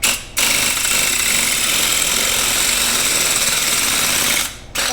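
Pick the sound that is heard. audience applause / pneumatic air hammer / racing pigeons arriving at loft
pneumatic air hammer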